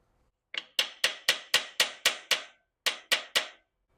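Sharp metallic taps on the starter of a 1993 Suzuki GN 125 motorcycle with a dead battery: eleven close, loud knocks in a steady rhythm, a brief pause, then three more.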